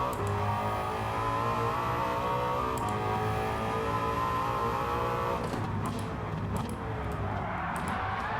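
A Genesis G70 race car with a swapped engine screams at high revs in Gran Turismo 7, a loud steady whine that climbs and shifts gears, with a change in engine note toward the end and no talk.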